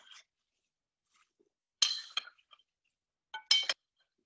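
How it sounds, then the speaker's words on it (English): Potato chunks tossed with butter, sage, thyme, salt and pepper in a bowl: a few sparse, sharp clinks and clatters, separated by quiet gaps, with no talk. "I'm just tossing it, making sure every piece is coated with the sage and the thyme and the butter and the salt and pepper"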